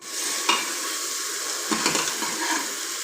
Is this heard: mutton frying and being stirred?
yes